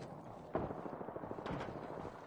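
Distant battle gunfire in a video game, muffled shots and bursts popping in the background, with two sharper reports standing out, fairly faint and without talk.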